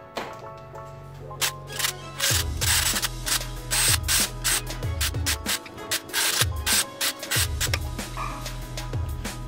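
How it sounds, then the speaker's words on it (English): A power drill bores rivet holes through a rear bumper diffuser on an EF Honda Civic, the motor whining in repeated short bursts with brief pauses between holes, close and fairly loud. "now all these are drilled out and I know that my rivets are going to fit"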